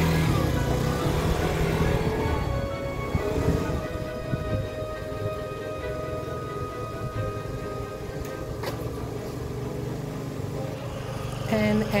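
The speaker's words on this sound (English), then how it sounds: "Sounds like usual, sounds like a 50cc scooter." A 50cc scooter engine, freshly serviced with new oil, a new spark plug and a cleaned carburetor, runs at a steady idle. The low, continuous drone stays close and even throughout, and some faint speech sits in the background.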